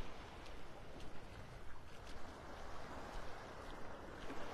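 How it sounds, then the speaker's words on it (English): Soft ocean waves at a beach in Naples, Florida wash in as a faint, steady hiss, with gentle swells rising and falling every second or so. "The lullaby of Mother Ocean."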